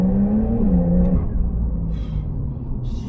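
A 2022 Porsche 911 Targa 4S engine pulls at half throttle, a smooth rising tone that eases off into a low steady rumble.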